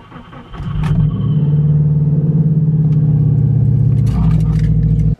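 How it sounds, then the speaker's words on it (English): A big-turbo Subaru Legacy GT running on E85 fuel cranks over briefly, then fires into a loud, steady idle close by, cutting off abruptly after about four seconds. "And now we get to do a cold start on the new Legacy"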